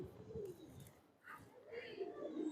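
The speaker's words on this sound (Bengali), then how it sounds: "মাসাল্লাহ খুবই সুন্দর কবুতর" Pigeons coo softly in a few low, throaty murmurs, quiet and fairly close, with a brief higher chirp among them.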